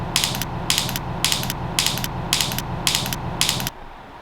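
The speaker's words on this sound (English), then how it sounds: "just twist it counterclockwise to loosen it and twist it clockwise to tighten it" The ratcheting fit dial on a Trek Circuit WaveCel bike helmet is twisted, giving seven evenly spaced bursts of quick clicks, crisp and very close, followed by a brief pause; no voices.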